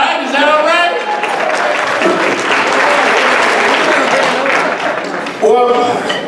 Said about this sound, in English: if you want a speaker to speak good, you give them a clap when it needs to be clapped